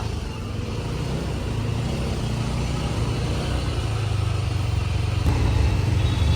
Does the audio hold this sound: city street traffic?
yes